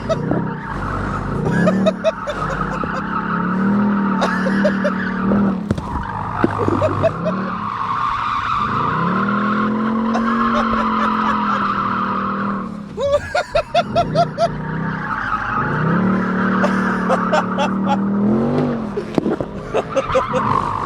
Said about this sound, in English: I'll initiate a little drift brake right here.